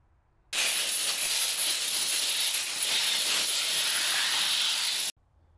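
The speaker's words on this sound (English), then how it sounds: "So I'm going to turn the air compressor back on and we'll blast some more soil away" An air spade blasts soil away from a hackberry tree's roots with compressed air, a loud continuous hiss that starts abruptly, holds steady for about four and a half seconds, then cuts off.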